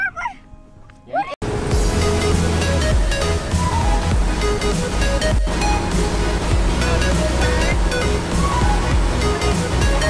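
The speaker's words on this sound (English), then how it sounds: "those waves, they get big." Waves splash and rush against a small motorboat on a family ride, a loud, continuous churning roar that starts abruptly after a brief quiet moment and carries on steadily with bumps of spray.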